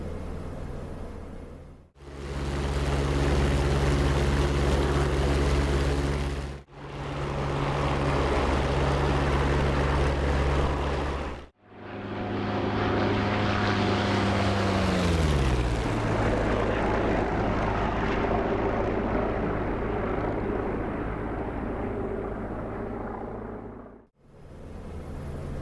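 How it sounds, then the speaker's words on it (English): A P-47D Thunderbolt's radial engine in the DCS flight simulator gives a loud, steady, throbbing drone broken by several brief cutouts, with the pitch sliding down midway through before it resumes. "I do love the sound of a radial engine."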